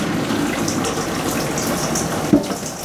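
Steady stream of tap water runs over freshwater mussels being rinsed in a kitchen sink, a continuous close splashing hiss with a brief clunk near the end.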